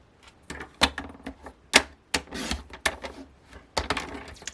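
Card paper being cut down into a rectangle for a simple layered handmade card: a series of sharp, irregular snips and crisp paper rustles, close and moderately loud, with short pauses between cuts.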